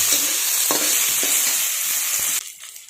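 Tomatoes sautéing with green chili and curry leaves in a hot pan for a village-style dry cluster bean dish, a close, dense sizzle with a few stirring knocks before the frying suddenly drops quieter near the end.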